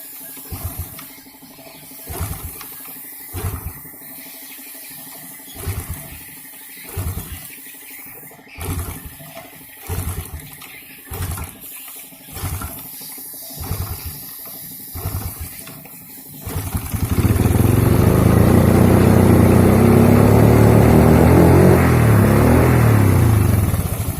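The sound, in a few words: Honda Jupiter motorcycle engine being started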